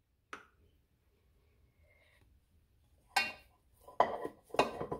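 Cassava cheese being worked in a pan: a sharp scrape near the start, then after a quiet stretch several louder clattering scrapes and knocks of a utensil against the pan, close up.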